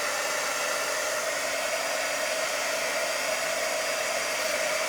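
A hair dryer blows on fresh paint on an upcycled thrift-store piece, a constant close, loud airy hiss with a steady motor whine and no voices.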